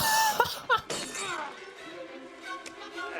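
Glass shattering in the 1990 film Misery, a sharp, loud crash with a ringing smash and tinkling debris trailing off, over dramatic film sound.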